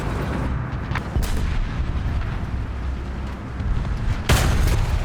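Tank ammunition cooks off in War Thunder, a heavy rumbling explosion with loud booms, a sharp blast near the start and another late, over dense continuous battle noise.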